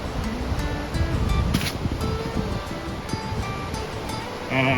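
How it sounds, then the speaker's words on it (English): Steady broadband rush of the Pigeon River flowing, fairly close and continuous, with faint rustling and no talking. "Crossing the Pigeon River."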